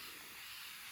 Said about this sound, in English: So let's go ahead and spray a spray away on it.